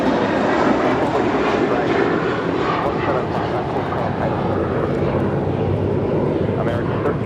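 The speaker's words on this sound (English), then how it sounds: "This is American Airlines 1315 departing to Atlanta on an A321." An American Airlines Airbus A321 jet departing LAX gives a steady, loud engine roar that fills the whole stretch, with a voice talking over it.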